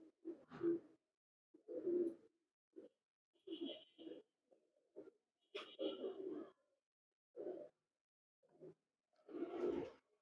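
Two 7-8-year-old pigeons from Dubai cooing close by in repeated soft, throaty bursts separated by brief pauses.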